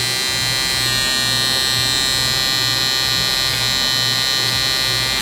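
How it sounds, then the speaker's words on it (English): An electric hair trimmer runs loud and close at a barber's chair while cutting hair for a low taper, its steady buzzing hum constant from start to finish with no speech. "So I'm gonna tilt and position my trimmer like this and start kind of chipping at the hair."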